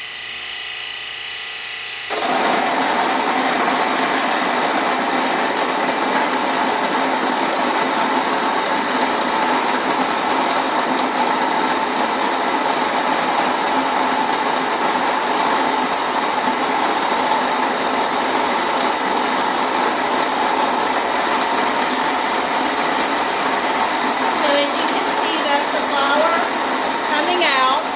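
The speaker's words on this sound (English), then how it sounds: "I just keep turning my bowl while it is milling the flour" A loud electric grain mill starts up and keeps grinding wheat berries into flour with a harsh, continuous whir that stays steady for a long stretch.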